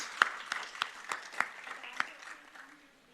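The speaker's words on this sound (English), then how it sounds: "Another round of applause." Applause from an audience, a scattered mix of hand claps that starts fairly strong and gradually thins out over a few seconds.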